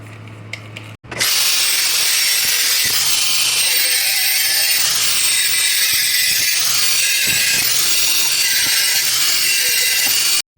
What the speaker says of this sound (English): So the next job is now to trim these down to 125 from the internals. So let's get the slitting disc on.